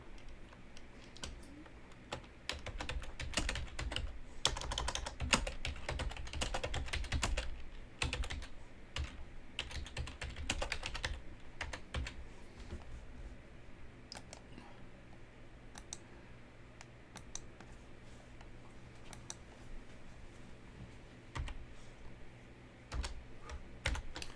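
Steady typing on a computer keyboard, with rapid clicking keystrokes that come in dense bursts and then thin out, heard close up with no talking.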